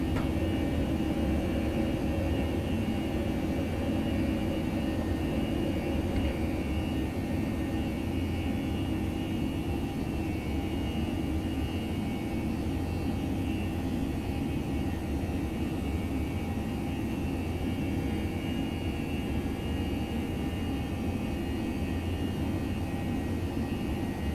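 A ToLiSS A321 airliner's jet engines in the X-Plane 11 flight simulator, just after rotation as it climbs out with the gear coming up: a steady, even roar holds for the whole stretch, with no voices.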